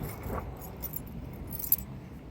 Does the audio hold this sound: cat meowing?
no